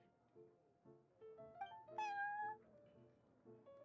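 Prince, a cat in Genshin Impact, meows several times in short, clear calls, one longer rising meow in the middle, close and alone with no speech.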